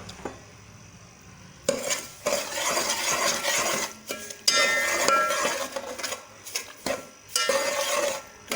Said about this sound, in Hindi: अब मैं इसमें ऑयल शामिल करती हूँ और इसको मिक्स करूँगी